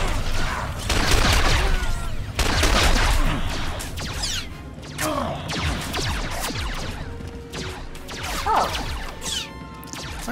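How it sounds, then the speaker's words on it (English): A Star Wars: The Old Republic firefight crackles with rapid blaster shots, whooshing bolts and sharp impacts, bursts arriving in waves over a busy, steady backdrop. "Firing at each other?"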